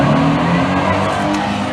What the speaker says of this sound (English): loud rotary engine